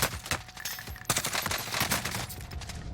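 Rapid bursts of automatic gunfire crackle through a Warzone battle royale match, dense overlapping shots with short pauses, loud and close throughout.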